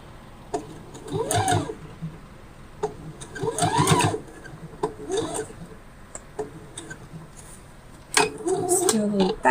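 A sewing machine backstitching fabric in short bursts of rapid mechanical whirring and ticking, several brief runs separated by pauses, close and moderately loud, with a person talking in between.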